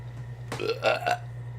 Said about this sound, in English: That's a burp of outrage